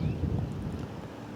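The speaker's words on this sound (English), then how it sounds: "It's gone a bit more windy." Wind buffets the microphone in a low, steady rush for a moment at a match-fishing lake at The Glebe, Mallory Park, with faint outdoor ambience behind it.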